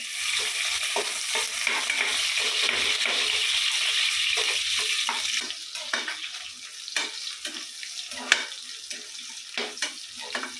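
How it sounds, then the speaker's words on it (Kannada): Chopped onions fry in hot oil in a home kitchen pan, a steady loud sizzle that drops partway through, followed by scraping and stirring clatter. "ಈರುಳ್ಳಿ ಎಲ್ಲ ಚೆನ್ನಾಗಿ ಫ್ರೈ ಆಗಬೇಕು."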